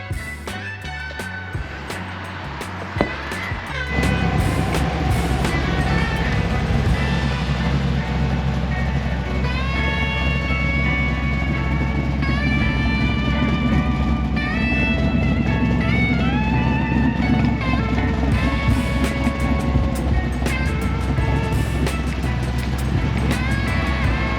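Big block Chevrolet C10 longbed truck engine idling fast and rough after the start, a loud, continuous rumble close by, following some clunks and short bursts at the outset.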